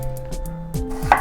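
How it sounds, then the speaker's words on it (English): Knife slicing an onion thin on a cutting board, a few crisp close cuts in quick succession over a low background hum, with no talk. "I'm going to slice up one onion."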